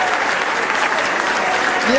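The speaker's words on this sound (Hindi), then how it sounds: "आप एक बार जोरदार तालियां बजाएं" Loud, dense applause from an audience at a Hindi comedy-poetry stage show, steady and sustained across the whole stretch with no break.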